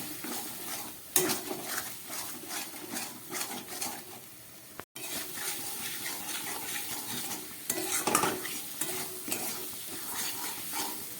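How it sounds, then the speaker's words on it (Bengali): Spice paste for a rita fish head curry being stirred and fried in a pan, with steady sizzling and scraping of a spoon against the pot throughout, a brief pause midway, and no talking. "এটাকে আরও খানিকক্ষণ আমি কষিয়ে নেব"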